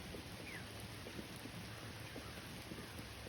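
Steady rain with thunder during a storm high in the mountains, a constant dense wash of falling water with faint low rumbling underneath and no voices.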